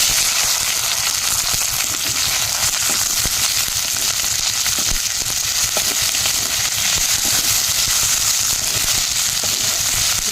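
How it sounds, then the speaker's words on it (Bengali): Onions, tomato, ginger, garlic, green chili and peanuts fry in hot oil, a loud steady sizzle with crackling pops throughout, close up and without voices. "এই গরম তেলের মধ্যে ভেজে নিই"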